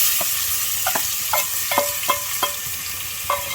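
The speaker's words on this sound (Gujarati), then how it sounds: "પછી એમાં આપણે ડુંગળીનો પેસ્ટ તૈયાર કર્યો એ નાખી દઈશું. તેલ ઉડે નહીં એટલે ઘડીક આપણે ઢાંકી દેવાનું." Onion paste fries in hot oil in a pan, a close, steady sizzle punctuated by several sharp scraping stirs at irregular intervals.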